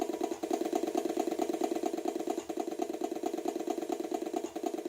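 Atari XL/XE disk drive writing data, a steady mechanical whirring with a fast rhythmic clatter running continuously, close and fairly loud with no talking.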